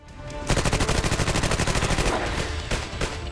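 A Thompson submachine gun fires a fast, loud automatic burst, its rapid even reports running for about two seconds, then a brief pause before a short second burst.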